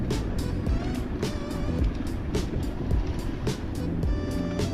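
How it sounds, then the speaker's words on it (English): A car passes on a mountain road in the High Atlas of Morocco, a low rumble with bursts of noise. "Car coming."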